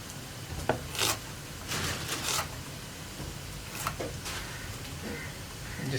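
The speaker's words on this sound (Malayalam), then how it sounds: "സവോളയും ഇതുപോലെ ചെറിയ ക്യൂബ്സ് ആയിട്ട് മുറിക്കുക." Chef's knife dicing onion into small cubes on a cutting board, giving a handful of quiet, scattered cuts and scraping strokes against a hushed kitchen background.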